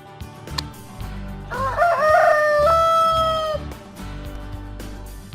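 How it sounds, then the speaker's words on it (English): A rooster crows once, a loud, clear cock-a-doodle-doo rising and holding for about two seconds, with faint background music and no talk. "Rooster."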